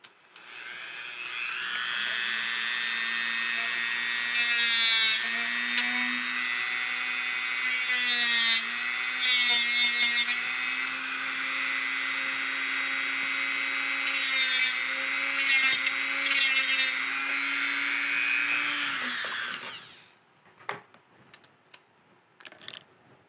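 Dremel rotary tool whining steadily at close range for most of the run, pitch dipping slightly as it bites, with several bursts of harsher cutting noise, then shutting off to a few clicks and handling sounds.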